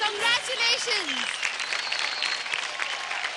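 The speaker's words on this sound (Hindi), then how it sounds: "धमाकेदार तालियां अवनी के लिए" Studio audience on a televised Hindi drama talent show bursts into loud applause for a contestant just promoted to the top 12, sustained clapping with a host's voice and cheering over it at the start, then steady dense clapping to the end.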